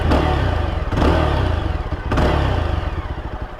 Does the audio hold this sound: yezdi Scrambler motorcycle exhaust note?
yes